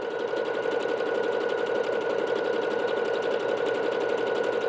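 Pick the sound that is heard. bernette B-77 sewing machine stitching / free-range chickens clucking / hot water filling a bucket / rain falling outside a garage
bernette B-77 sewing machine stitching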